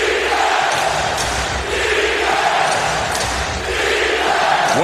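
A packed basketball arena crowd at a 2009 Rockets vs. Blazers playoff game in Portland roars and cheers loudly and continuously, with the noise swelling and dipping in waves.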